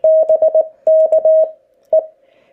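A single steady radio tone keyed in Morse code, sending quick groups of dots and dashes in three bursts, clean and loud with no voices.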